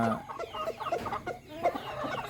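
Chickens cluck repeatedly in a backyard home coop on a holiday morning, a steady stream of short clucks and calls close by, with no one talking.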